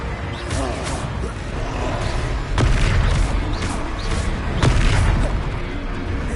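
A spell cast in a wizard video game lands as two booming, explosive hits over a dense bed of game sound and music, without spoken words.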